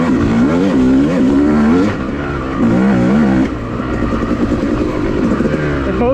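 A dirt bike engine revs and pulls hard along the Wambaw Cycle Trail North Loop, its loud close drone rising and falling steadily as the rider holds the throttle through corners.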